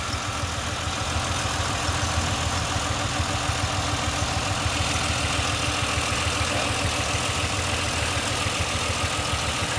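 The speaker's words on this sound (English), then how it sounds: "So I'll let the car run for a few minutes" A car engine idles after a passenger-side valve cover gasket replacement, a loud, steady low rumble with an even pulsing rhythm running unbroken throughout.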